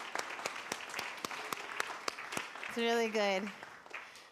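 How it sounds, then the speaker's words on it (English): A congregation at an Erev Shabbat service gives the Zimriah singers a round of applause: scattered, distinct claps that thin out, then a voice speaks briefly and a sustained tonal sound enters near the end. "Can we just give a nice round of applause to our Zimriah?"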